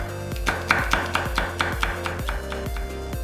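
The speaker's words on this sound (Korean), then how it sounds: "청양고추 2개는 슬라이스" A knife slices two Cheongyang chili peppers on a cutting board in a Korean home kitchen, sounding as about ten crisp, evenly spaced chops in a steady rhythm, close and clear over faint background music.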